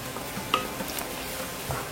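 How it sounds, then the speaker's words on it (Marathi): Garlic sautés in a pan for a Maharashtrian cashew prawn masala, with a soft, low sizzle, light stirring scrapes and a brief clink of utensil against the pan. "ही लसूण टाकली, थोडंसं परतायचं"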